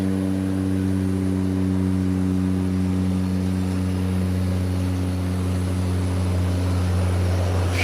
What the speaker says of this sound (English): The small craft is taking us short takeoff.